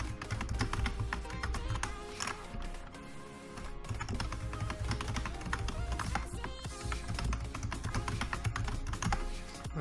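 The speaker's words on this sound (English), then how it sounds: "And type a password." Fingers tap out a password on a computer keyboard, a steady close run of quick key clicks for several seconds, fairly quiet with no voice over it.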